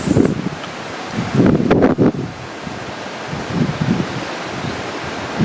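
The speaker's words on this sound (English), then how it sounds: "It's so windy, guys." Strong wind gusts across an outdoor backyard, a loud, continuous rushing roar with swelling buffets battering the microphone close up, and no talking.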